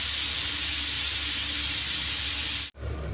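Steady broad hiss and sizzle of a roti laid on a hot pan over a home stove, continuous and fairly loud for nearly three seconds, then cutting off abruptly into quieter room noise.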